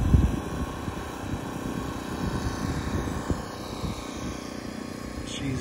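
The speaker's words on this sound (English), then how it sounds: "Emily's got the drone out." A drone flies above a barn-raising construction site, making a steady whirring buzz that stays at a moderate level with faint voices nearby.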